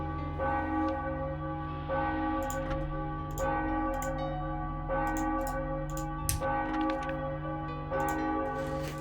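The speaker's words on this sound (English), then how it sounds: "The bell rings without any mechanism." A lone church-style bell in the Enigmatis hidden object game tolls steadily by itself with no visible mechanism, its deep ringing sustained and layered, with repeated strikes spaced about every second and a half.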